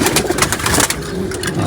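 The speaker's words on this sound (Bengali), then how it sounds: "আমি সব কটা কবুতর বলে আপনাকে দেখাইতেছি" Pigeons coo steadily and overlap one another in a busy loft, the calls close and fairly loud throughout with no talk.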